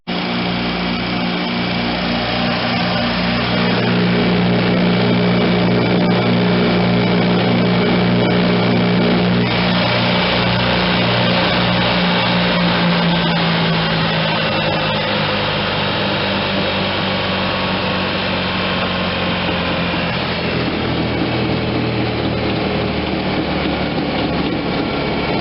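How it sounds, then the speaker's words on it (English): A Vermeer BC625a brush chipper runs steadily with its chipper disc engaged, a loud, continuous engine drone with whining machinery and a shift in pitch partway through, with no talk over it. "I'm going to run it with the chipper disc engaged just to see if it changes anything."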